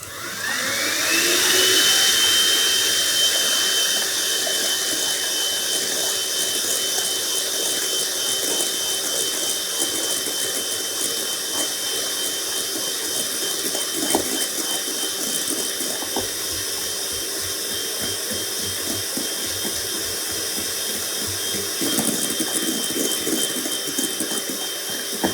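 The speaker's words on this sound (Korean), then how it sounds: "우선 처음에 반 넣고 중속으로 끝까지 중속으로 휘핑을 할게요" Egg whites and sugar being whipped by an electric mixer at medium speed, a steady whirring drone with a rattling, clattering edge that runs without pause, loud and close.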